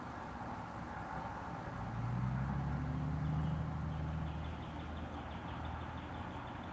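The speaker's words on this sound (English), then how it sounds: "listening to the sound of traffic go" Steady low rumble of passing road traffic, a vehicle swelling louder as it goes by midway, heard outdoors at moderate distance with no talking.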